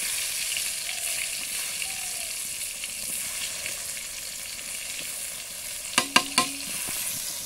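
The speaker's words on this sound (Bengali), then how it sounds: "তো তেল গরম হয়ে গেছে, এখন ছেড়ে দেবো আমাদের বেগুন ভাজি।" Eggplant slices sizzle steadily in hot oil over an outdoor village cooking fire, a continuous close frying hiss with a few sharp clatters of a utensil near the end and no voices.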